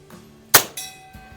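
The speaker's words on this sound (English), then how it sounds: "Love my bell." A bell is struck once with a sharp bright clang in celebration at a shooting session, followed by a short ringing decay and a fainter second tap.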